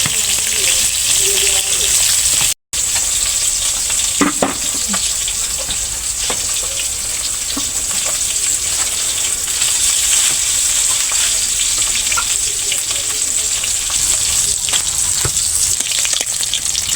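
Cooking in a wok on a village clay stove, a steady close sizzle and crackle of frying with occasional clinks and stirring, and a short break early on.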